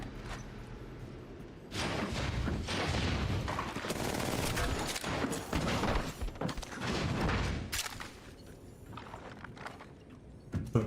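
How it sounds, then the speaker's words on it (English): Gunfire in the shooter game Apex Legends: dense bursts of shots and impacts clatter loudly and almost continuously, with brief lulls between volleys. "They're shooting at me."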